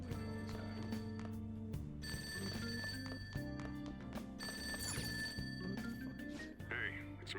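A cell phone rings in the video game Persona 5 Royal, a faint repeated electronic ringing over layered game music, with no voices.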